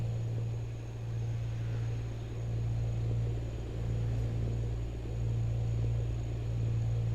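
A truck engine in Euro Truck Simulator 2 holds a steady, low, droning rumble from start to finish, with no speech over it.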